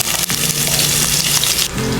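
Ginger sizzling in hot olive oil in a pan, a steady close crackling fry that runs throughout without any talk.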